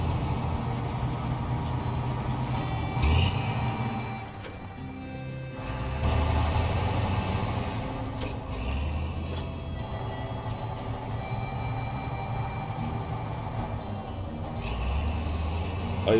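Engine of a Derry HET M1070 heavy truck in a SnowRunner mod, a steady low rumbling drone with shifting load, brief surges and dips as the engine is taxed, continuous throughout.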